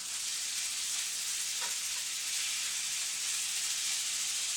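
Two pounds of chicken breast sizzle steadily in a hot pan with onions over high heat for Cajun chicken penne, a constant close frying hiss with no talking.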